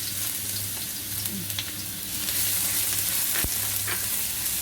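Garlic frying in a pan alongside pre-boiled broccoli for a stir-fry, a steady broadband sizzle running throughout with light scraping stirs and a sharp utensil clack near the end, no voices.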